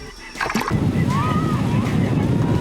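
Water bikes race across the sea at a beach, an engine whine rising over the rush of wind and surf, close and loud, with voices faintly mixed in.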